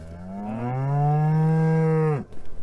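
A dairy cow gives one long, loud, close moo that rises and holds steady before cutting off abruptly.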